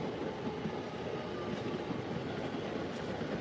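Passing trains on Tokyo's Yamanote and Keihin-Tohoku lines fill the air with a steady, close rumble of wheels and rail noise, carrying on without a break.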